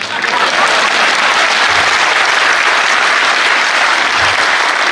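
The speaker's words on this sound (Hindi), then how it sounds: "मेरे स्वागत में दोबारा जोरदार तालियां बजाएं" An audience at a Hindi comic poetry gathering (hasya kavi sammelan) breaks into loud, dense applause, a continuous wash of many hands clapping close and strong for the full stretch.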